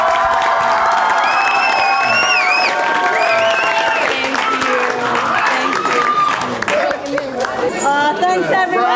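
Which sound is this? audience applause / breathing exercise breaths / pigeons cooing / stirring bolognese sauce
audience applause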